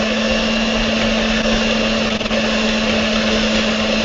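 An electric mixer runs at low speed with a steady, loud motor hum as powdered sugar is beaten into lemon cake batter, a continuous whir that goes on alone without talk.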